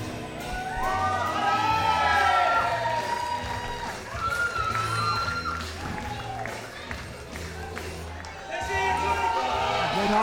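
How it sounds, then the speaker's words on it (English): A crowd at a wrestling event cheers and whoops for a wrestler's entrance, a sustained roar with scattered shouts and clapping, while a commentator talks over it. "Raynaldo getting a great reception as always here from this crowd"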